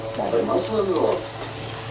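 Tomato and onion are stir-fried with salt and chili powder for pasta, a close sizzle under two quick scraping stirs of a spoon in the pan.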